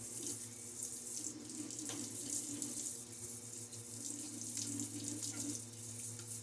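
Tap water runs steadily into a sink while a face is rinsed after a wet shave. The flow is close and continuous, with small splashes and no talking.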